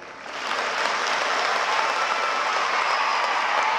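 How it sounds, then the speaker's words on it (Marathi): Audience applause at a student career-guidance motivational talk in Selu, a dense, steady wash of clapping from a large crowd that swells in within the first half second and holds loud and even throughout. "आणि एकदा टाळ्या होत्या मह्यासाठी."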